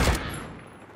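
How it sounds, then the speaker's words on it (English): A short burst of submachine-gun fire in a shooting video game: a loud, dense volley at the very start that quickly fades into a ringing tail, with no talk. "What were you shooting at?"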